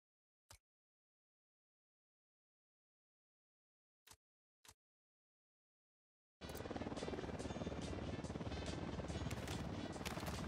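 Helicopter in a video game: after a few isolated clicks in near silence, a loud, steady rotor-and-engine roar starts abruptly and continues unbroken to the end.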